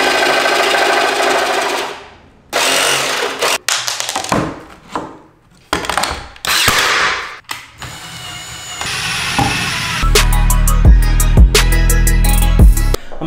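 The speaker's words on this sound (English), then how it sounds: "I am now at the power plug point where I need to jigsaw out the power plug." A jigsaw cuts a power outlet opening in a shiplap wall, its motor buzzing loudly in rough bursts with stops and restarts, then a rhythmic rattling chatter near the end, close up and with no talking.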